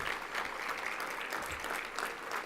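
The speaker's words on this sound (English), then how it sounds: "So give those guys a round of applause real quick." Soft, steady applause from a film program audience, a continuous patter of many hands clapping at a moderate distance.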